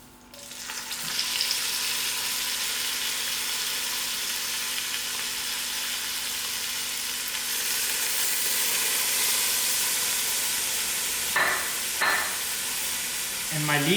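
Grated onions sizzle and crackle in olive oil in a pan, a steady close frying hiss that swells slightly as they cook, with a few brief stirring clatters near the end.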